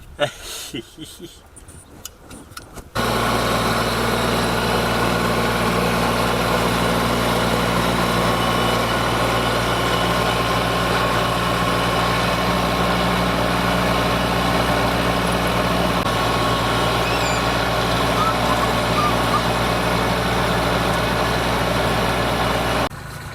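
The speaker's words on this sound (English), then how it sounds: "You riding a four-wheeler?" A four-wheeler ATV engine idles and runs steadily nearby with a constant low drone, starting abruptly after a few seconds of quieter handling noise.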